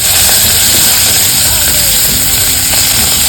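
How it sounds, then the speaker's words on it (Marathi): Mustard seeds, cumin, green chili and garlic sizzle in hot oil while tempering for a Marathi dal and onion dish, a loud, steady hiss and crackle running unbroken through the whole stretch. "तेल टाकून घेते मी, मोहरी टाकून घेते, जिरे आणि इथे एक मिरची आणि लसूण"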